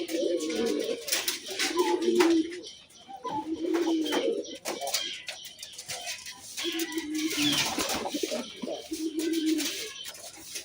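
Pigeons in a loft give repeated low, rolling coos in short bursts, close and clear, with faint chirps and rustling between the calls.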